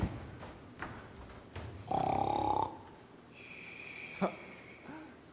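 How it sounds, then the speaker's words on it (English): A wolf snores loudly through a long nap after a big meal, one deep rasping, buzzing snore standing out against quiet surroundings, with faint thumps and a soft whistling tone afterward. "That grandmother has a mighty snore."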